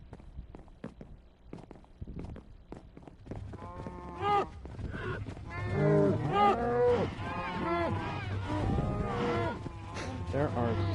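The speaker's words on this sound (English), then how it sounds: "There are so many cows in there." Many cows mooing in Minecraft Bedrock Edition, packed together in an enclosure, starting with scattered footstep-like clops and building into overlapping, repeated moos, near and fairly loud.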